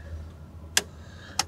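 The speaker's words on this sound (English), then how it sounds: "driver blinker there" Turn signal blinker in a 1986 Ford F-150 Bullnose 4x4, two sharp clicks about half a second apart over a low idling rumble inside the cab.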